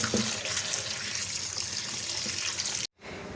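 Tap water runs steadily into a sink while fish is being washed for cooking, a continuous close splashing rush that cuts off abruptly near the end before resuming more quietly.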